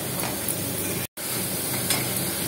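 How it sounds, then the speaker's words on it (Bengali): Prawn masala with yogurt frying in oil in a pan for a Bengali dahi prawn dish, a steady close sizzle with stirring scrapes, broken by a brief silent gap midway. "আমি ভালো করে কষিয়ে নেব যতক্ষণ না তেলটা বেরিয়ে আসছে।"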